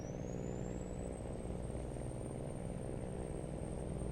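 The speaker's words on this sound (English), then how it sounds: "I really love this truck. I have so much fun driving this one. It sounds really good." A heavy truck engine in American Truck Simulator drones steadily at a constant low rumble. A thin high whine rises early and then holds, with no voices.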